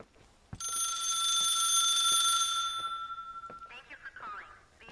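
A telephone rings once in a long, bright electronic trill that holds for about three seconds, then fades as a faint voice and soft clicks follow.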